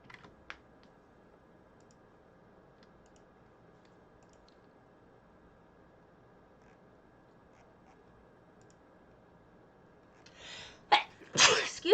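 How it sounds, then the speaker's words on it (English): A single person's sneeze near the end of a quiet stretch during a casual livestream: a loud, sharp burst with a short follow-up, after a long low background hum with faint clicking. "I got the sneeze."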